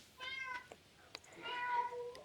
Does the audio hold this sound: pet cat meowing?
yes